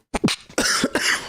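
A man's coughing fit close to the microphone, several quick harsh coughs in a burst with brief gaps, loud and alone.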